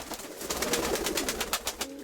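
Several pigeons coo close by in a steady, overlapping murmur, with the soft throaty calls running through the whole stretch and no talk over them.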